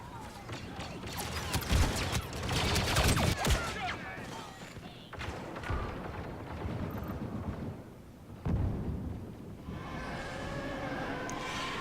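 Explosions and laser blaster fire in Star Wars Battlefront II multiplayer arrive as dense bursts of booms and zaps, heaviest early on, with a voice faintly mixed in.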